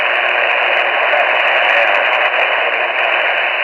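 Steady hiss and static from an AM radio on the broadcast band, with faint, indistinct stations washing in under the noise.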